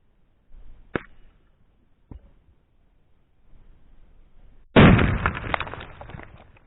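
A WW1 Kugelhandgranate M1913 grenade goes off after a couple of small sharp pops, bursting in one loud blast that decays into rumbling debris noise, fairly close.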